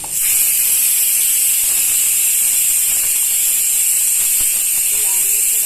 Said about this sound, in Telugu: ఇలా బాగా బీట్రూట్ ముక్కలన్నీ కూడా బాగా వేయించుకోవాలి